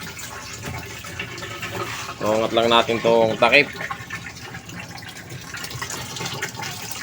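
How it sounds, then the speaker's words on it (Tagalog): Water runs into a Dowell washing machine tub, a continuous splashing gush that carries on beneath and after a short stretch of someone speaking. "So, nilalagyan natin siya ng tubig."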